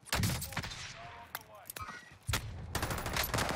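Gunfire in Call of Duty Warzone (Vanguard era) on Rebirth Island: bursts of rapid shots and sharp cracks, loud and close, with a dense volley near the start and another near the end.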